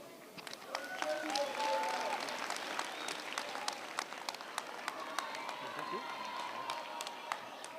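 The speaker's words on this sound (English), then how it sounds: "Another hand of applause for those graduates, please." Sustained applause from an audience at a university graduation ceremony, steady and fairly distant, with scattered sharper claps and a faint voice briefly underneath.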